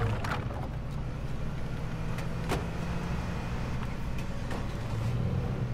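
Truck driving in the survival shooter game H1Z1, a continuous engine drone and rumbling road noise with occasional clunks and bumps, steady and fairly loud throughout with no talk.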